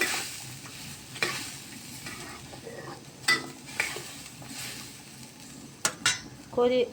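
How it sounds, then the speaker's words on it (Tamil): Mushroom curry is stirred lightly after milk is poured in, with a soft sizzle underneath and scattered clinks and scrapes of a spoon against the pot, close and moderately quiet, the knocks growing sharper near the end. "வேண்டிய அளவுக்கு ஊற்றிட்டு கொஞ்சம் லேசாக கிண்டி விட்டுட்டு"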